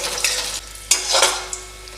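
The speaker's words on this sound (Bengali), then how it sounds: "গ্যাসটা একদম লো ফ্লেমে করা আছে। রসুন ভাজার সুন্দর গন্ধ বেরোলে তখন আমি এটা সবজিটাকে দিয়ে দেবো এর মধ্যে।" Garlic fries in oil over a low gas flame, giving a soft sizzle broken by a few scraping, clinking strokes of a spoon against the pan.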